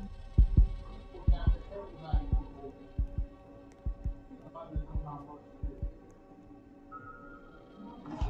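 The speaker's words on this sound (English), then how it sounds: "And I'm moving towards stopping the heartbeat." Heartbeat in the Roblox-style game Flee The Facility: a steady, loud low thumping pulse of paired beats throughout, with soft game hum and a faint tone near the end.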